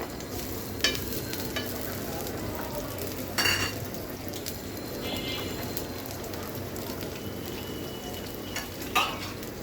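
Shrimp frying in a pan for Chinese-style noodles, giving a loud and steady close sizzle with occasional clinks and scrapes of a utensil against the metal, and no voices.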